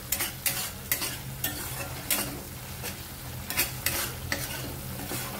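Chopped onion sautés in hot oil for chole masala while a spoon stirs it steadily. The sizzle holds throughout, with repeated sharp scraping clicks from the stirring, close and fairly loud, and no voices.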